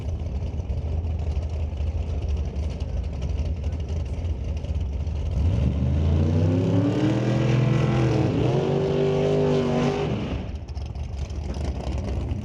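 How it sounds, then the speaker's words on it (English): Top dragster race cars at an NHRA drag strip: a loud, close engine roar rises sharply through a revving launch, holds a strained scream for a few seconds, then cuts off, with a constant crowd-and-engine rumble beneath. "looks like first pair in top dragster"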